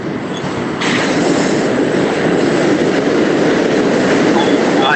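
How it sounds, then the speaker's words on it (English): A train rolls past on rails, a loud, dense, continuous rumble and rush that swells slightly after the first second and holds steady throughout, with no voices. "I hate the train."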